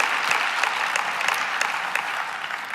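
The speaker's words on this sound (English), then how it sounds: "if you could also give an applause for everyone that I missed" Steady applause from an audience at a university environmental summit, sustained and fairly even throughout, with no voices standing out.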